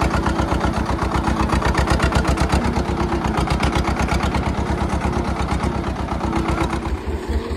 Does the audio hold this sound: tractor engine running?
yes